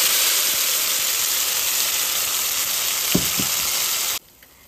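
Ground mango chutney sizzles hard in hot oil in a pan, a loud, steady hiss with a couple of stirring knocks. The sizzle cuts off abruptly near the end.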